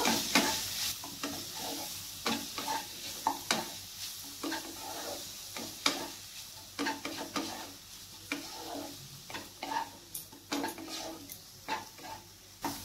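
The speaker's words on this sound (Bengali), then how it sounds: "এরপর আমি ওই তেলে পেঁয়াজ কুচিটা দিয়ে দিচ্ছি। পেঁয়াজটাকে আমি এখানে ভেজে নেব।" Chopped onions frying in oil in a pan for a chicken keema and egg dish, with steady sizzling broken by repeated scraping and stirring clatters from a utensil, no talk.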